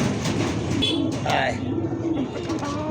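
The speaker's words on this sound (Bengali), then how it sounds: "ডাক দিব, ডিমের কবুতর তো একটু ওমে বসা রয়েছে, ডাক কিন্তু ভাই মাশাআল্লাহ খুব সুন্দর" A pigeon pair in a loft, the hen brooding eggs, giving a low murmuring coo under continuous nearby talk and handling noise.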